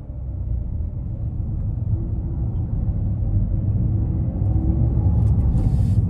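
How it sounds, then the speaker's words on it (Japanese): Road noise inside a 2021 Toyota GR Yaris RZ High Performance 4WD First Edition while driving: a steady, fairly loud low tire-and-road rumble that builds slightly, with no speech. "ロードノイズは大きめな感じですかね"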